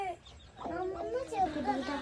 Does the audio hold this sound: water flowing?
no